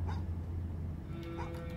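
A dog barks and whimpers in the horror game Fears to Fathom Home Alone, short yips and bow-wows heard at moderate distance inside a house, with low ambient hum underneath.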